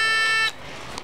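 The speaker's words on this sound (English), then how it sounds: "When the mail is dropped in the mail slot, LittleBits circuits make a beep to let you know that the mail is here," A LittleBits circuit emits a single loud electronic buzzer beep lasting about half a second when mail drops into a mail slot, followed by quiet room tone.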